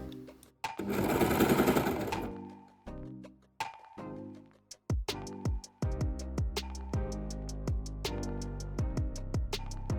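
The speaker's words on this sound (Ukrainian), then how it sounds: "Потім весь цей бутерброд шила разом на оверлоці." An overlocker serges a folded collar onto a longsleeve top through up to five fabric layers. A short, dense burst of machine running is followed by scattered clicks, knocks and brief motor bursts, all close and fairly loud.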